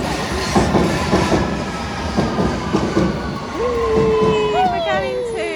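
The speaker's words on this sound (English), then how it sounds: "An underground train." A London Underground train runs through the tunnel with rhythmic clattering wheels and rumble, then a sharp rising squeal of wheels or brakes toward the end, close and loud, with voices talking underneath.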